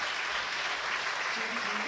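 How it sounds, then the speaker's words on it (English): An audience in a conference amphitheatre applauds in a dense, steady wash of clapping that holds at an even level throughout. "Give her a round of applause."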